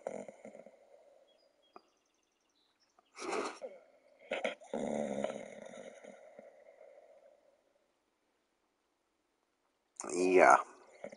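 A dog gives low growling, snoring-like rumbles in a quiet room, a few short bouts between pauses, with a person speaking briefly.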